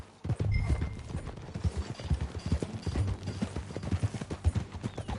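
Rhythmic clip-clop of horse hooves trotting at a steady pace in a video game, fairly close and clear, with no talking.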